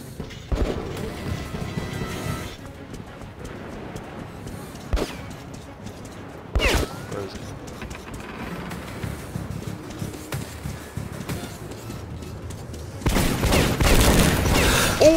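An upgraded Bastard gun fires in the Metro 2033 Redux shooter, with loud automatic bursts breaking out in clusters among quieter game noise. A long, sustained barrage closes the passage.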